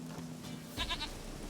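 A goat bleats once in The Witcher 3: Wild Hunt, a short, faint, wavering cry over a quiet game background.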